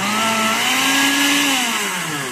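A kitchen blender whirs loudly while mixing a thick homemade aloe vera conditioner, its motor pitch rising slightly then sagging as it strains, continuous and close with no talk.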